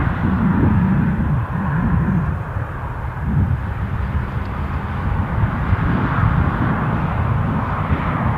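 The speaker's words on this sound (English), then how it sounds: "those Ryanair circuits, just getting those landings teed up, I'm guessing, for the touching and going" Steady, loud jet roar of a Ryanair airliner flying touch-and-go circuits at Newcastle airport, a broad continuous rumble that stays close and even throughout without any voices.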